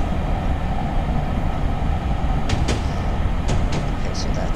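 Loud, steady rumble of a train slowing on rails in Train Simulator 2018, with a few brief metallic squeals and clicks toward the end.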